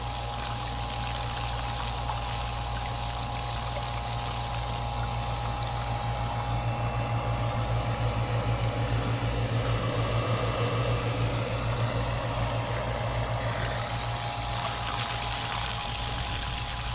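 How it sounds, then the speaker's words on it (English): A pump fed by a garden hose steadily pumping water out of a container, a continuous rushing, pouring wash with motor hum, close and fairly loud, with no one talking. "I've got water coming into that container and it's pumping it out faster than it comes in"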